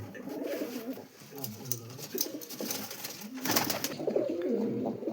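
A pair of pigeons coo in low, throaty rolling calls close by, with a brief lull before the cooing swells again alongside faint rustling and flapping.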